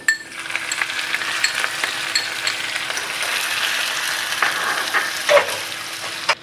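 Chopped onion and garlic fry in a heavy pan for a Kerala kalan curry, a steady loud sizzle broken by scraping stirs and a few light utensil clinks, close by, with no voices.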